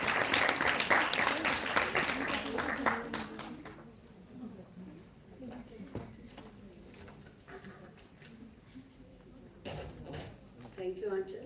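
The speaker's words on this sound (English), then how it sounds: "Please welcome a big round of applause for Mrs. Seema Gupta." Applause from a conference audience at a health conclave, loud and dense at first, then thinning to scattered clapping with some background murmur.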